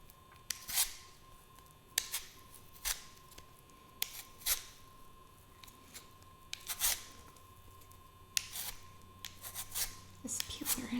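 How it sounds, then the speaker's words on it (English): Potatoes are peeled with a vegetable peeler for baked potato soup, giving a string of short scraping strokes, close and crisp, spaced a second or two apart, over a faint steady hum. "This peeler isn't doing the best job, but that's okay."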